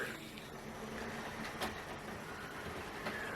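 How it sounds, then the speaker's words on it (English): A Hornby GWR model steam locomotive runs along the track into a model railway station, with quiet rolling whirr and faint rhythmic clicks over rail joints. "there should not be any hesitation of this locomotive coming into the station"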